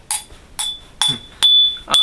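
Glass is struck four or five times, each tap leaving a clear, sustained high ring; the later strikes ring longer and brighter.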